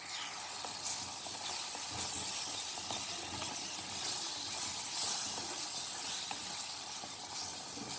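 Prawns sizzle and steam in a clay pot while being stirred, a steady soft hiss with faint scraping underneath and no voices.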